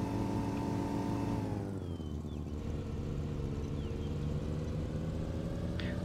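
A Porsche engine in the racing game Need for Speed: Porsche Unleashed drones steadily at moderate volume, its pitch dropping as the revs fall, then settling and slowly climbing again, with no voices.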